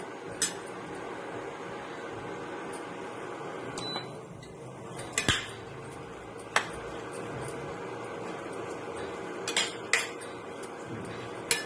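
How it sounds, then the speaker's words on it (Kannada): Curry leaves and garlic are warmed in a pan, a metal utensil clinking and tapping against it now and then over a low, steady background. "ಕರಿಬೇವು ಬೆಳ್ಳುಳ್ಳಿ ಹಾಕ್ಬೇಕು ಅದಕ್ಕೆ ಬೆಚ್ಚಗೆ ಮಾಡ್ತಾ ಇದ್ದೀನಿ"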